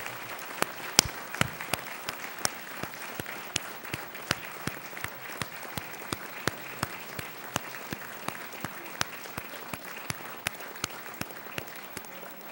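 A graduation audience applauds the families and friends in a large hall, with sustained crowd applause and sharp individual claps standing out throughout.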